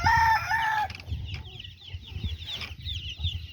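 Young chickens in a brooder box peep and cluck close by, a high chirping burst at first followed by scattered softer clucks over low background noise.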